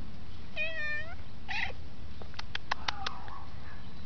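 A cat meows indoors, a few short clear meows followed by quick high chirping squeaks, fairly close over a faint low background hum.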